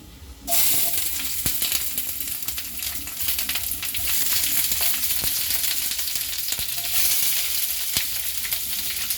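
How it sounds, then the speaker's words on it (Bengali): Onions sizzle and fry in hot oil for a restaurant-style mixed vegetable dish, a steady loud crackling hiss that starts abruptly as they hit the pan and continues throughout with occasional sharper pops. "তেলটা আমার গরম হয়ে গেছে, এরপর তেলের মধ্যে আমি একে একে দিয়ে দেব পেঁয়াজ"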